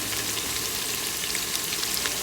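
Green chilies frying in a pot for one-pot chicken biryani give a loud, dense, continuous sizzle with a fine crackle, steady and close with no talking.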